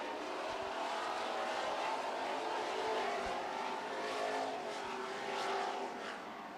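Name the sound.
super stock race cars racing on track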